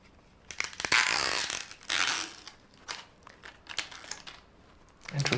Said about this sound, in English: Now remove your cartridge and the needles from their box.